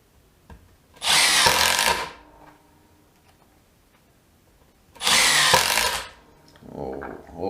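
Milwaukee M12 FID Gen2 brushless impact driver running in two separate bursts of about a second each, loud high-pitched whirring with rattling hammer action, and quiet pauses between them.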